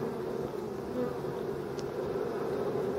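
Honey bees buzz steadily around hives in a forest apiary, a dense, continuous hum of many insects at a moderate level with no talk.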